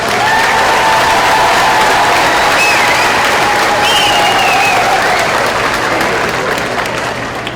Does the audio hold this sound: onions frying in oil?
no